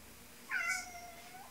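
A single drawn-out cat meow, close and clear, rising then trailing off over quiet room tone during an unboxing.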